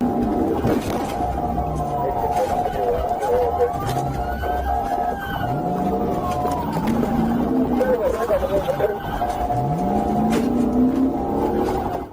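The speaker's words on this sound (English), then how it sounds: "the trooper hits the lights and siren, signaling the driver to pull over" A state trooper's police siren wails during a highway car chase, its rising and falling sweeps repeating over a loud, constant rumble of traffic and road noise.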